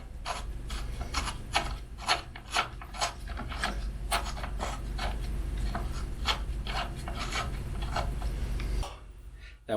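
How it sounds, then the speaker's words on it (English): Pedal being threaded by hand into the crank of a Metakoo M1 / Xpirit 12 folding mini electric bike, giving a steady run of close, repeated rasping and rubbing turns with no talking, ending in a short pause. "So we just have to put the threads into this hole and turn it towards the left,"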